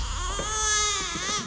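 Infant crying in a dark, tense teaser for the survival drama Squid Game season 3: a close, loud, wavering wail held for over a second, then broken into short sobbing gasps, with no talk.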